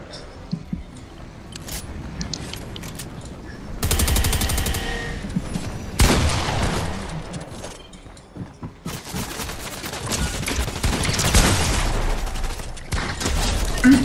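Fortnite gunfire in rapid sprays, repeated bursts of automatic fire and loud shots crackling in several clusters close up, with players talking over the action.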